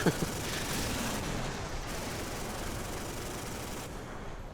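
Autocannons on a warship in the Modern Warships naval combat game hammer at an enemy ship, a dense, unbroken stream of rapid gunfire and blasts that stays loud throughout.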